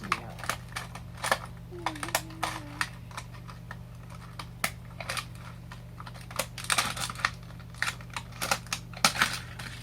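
Scissors snip out a Peppa Pig toy figure in a run of crisp, irregular clicks and cuts over a steady low hum, with a brief faint tone partway through.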